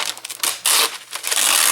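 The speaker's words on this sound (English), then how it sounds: "and then just tear this off. I love his tissue wrap." Tim Holtz tissue wrap is torn off a roll close up, giving a loud, papery crinkling rip in a few quick bursts.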